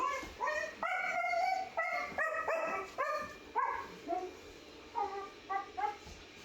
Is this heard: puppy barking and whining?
yes